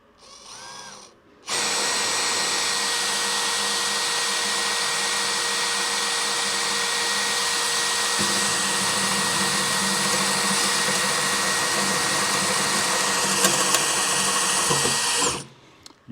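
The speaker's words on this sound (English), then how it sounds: "Use slow speed on the drill because we're drilling 316 stainless" A hand drill bores slowly into 316 stainless steel while modifying a grill firebox door, giving a steady, close whine and grind that holds for about fourteen seconds with no talking.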